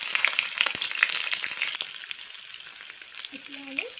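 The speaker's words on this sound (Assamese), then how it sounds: "আমি কম তেলতে মাছখিনি ভাজিবলৈ চেষ্টা কৰিম" Mowa fish frying in a little oil in a pan, with a steady bright sizzle throughout, a few crackles and the scrape of stirring near the end.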